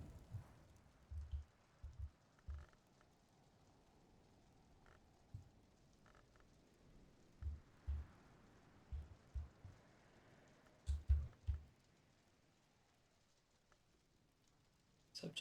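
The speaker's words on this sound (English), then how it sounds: "Oh, hey, it's hailing." Hail falls in a video game, heard as scattered irregular thuds and pattering impacts against a quiet rainy background, with clusters of louder hits around the middle and near the end.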